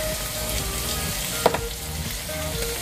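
Garlic and onion frying in a pan with a steady loud sizzle throughout, broken midway by a brief clack of a stirring utensil.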